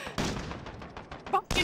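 Video game gunfire, a series of short, sharp shots popping in quick succession at moderate loudness, with a louder final burst near the end.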